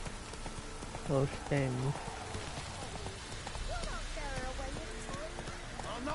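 Hooves of Roach, a horse in a video game, clip-clop in quick bursts beneath rain, with a person talking over the gameplay.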